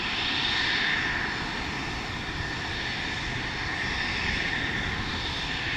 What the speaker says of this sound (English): That is a stall turn.